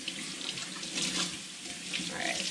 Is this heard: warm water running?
yes